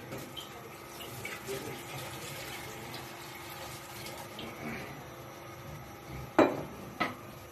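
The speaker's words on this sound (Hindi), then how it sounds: "उसके बाद हम इसके अंदर शामिल करेंगे एक जग पानी।" Water from a jug pours into a cooking pot on a lit stove for chicken soup, a steady faint splash and trickle with light metal clinks, ending in two sharp knocks of the pot.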